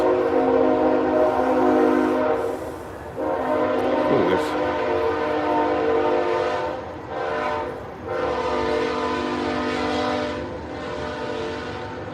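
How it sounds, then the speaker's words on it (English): A train passes near a garden, its horn sounding long and loud with a rumbling wagon noise underneath, and a person briefly exclaims in the middle. "the train"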